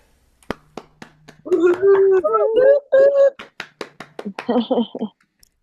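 Sharp, isolated hand claps ring out at a haiku competition, close and crisp, some single and some in quick runs, between and under stretches of a person talking.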